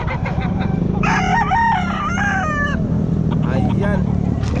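At a roadside chicken market in Santa Maria, Bulacan, a rooster crows loudly and close by, a drawn-out wavering call followed by a fainter second crow, over steady crowd and traffic noise with people talking.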